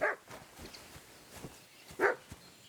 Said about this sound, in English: Mutt's still barking.